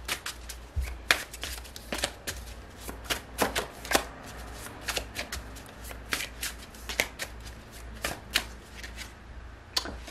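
A tarot deck being shuffled by hand, giving a run of quick, crisp riffles and taps in irregular bursts, close and fairly quiet, with no talk.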